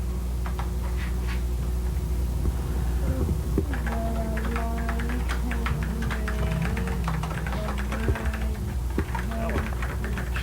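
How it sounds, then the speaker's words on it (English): A child typing on a computer keyboard, quick irregular key clicks close by over a steady electrical hum, while an adult speaks at intervals. "I can see you typing."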